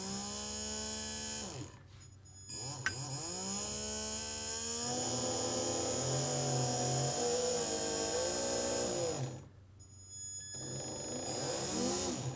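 Two RC car motors on a Flysky NB4 Pro setup with front and rear ESCs rev up together, a whining electric buzz that rises and falls in pitch across several accelerations with short pauses.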